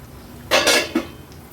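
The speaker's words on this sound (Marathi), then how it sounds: "झाकण काढून बघूया" Metal lid lifted off a pot of tomatoes cooking over a low flame, giving a short clattering scrape and a clink, then a small knock, close and fairly loud against a quiet kitchen.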